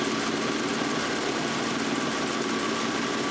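A Ford Mustang engine idles with a rough, steady knocking rattle, as if something loose is tumbling inside, heard close and continuous with no talking.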